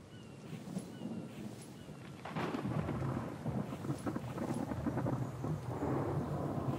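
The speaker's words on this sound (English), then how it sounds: "Just love the sound of the thunder." Thunder rolls and rumbles through a rainstorm in a survival video game, starting softly and then swelling into a long, deep, continuous growl over steady rain noise.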